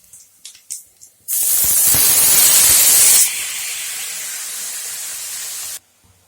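Chunks of taro (mankachu) dropped into hot oil with crushed garlic and green chili, a few light taps followed by a sudden loud, steady sizzling hiss that eases slightly and then cuts off.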